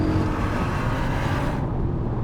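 A 2020 Audi RSQ3 Sportback's engine pulls hard under acceleration, a loud, steady, full-bodied roar heard from inside the car without talk.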